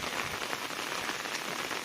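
Heavy monsoon rain pours down on rice paddy fields in the Konkan in a dense, steady hiss, loud and close, with no voices over it.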